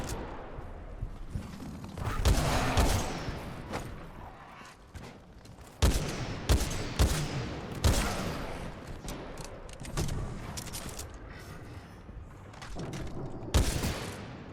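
Weapon fire from the video game Titanfall 2, heard as repeated loud bursts and single shots with sharp transients across the clip, separated by short gaps and set against game noise.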